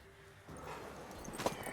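Horse hooves clip-clop in The Witcher 3 as a mare sets off, a short run of soft hoof beats that begins abruptly and carries on at moderate loudness with no talk.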